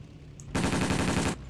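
A rapid burst of gunfire in a video game, loud and close, with tightly spaced shots running for just under a second before cutting off.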